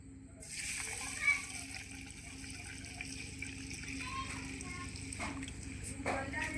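Water is poured into a bowl of lentils to soak, with a soft, steady splashing, close by, under a constant low hum.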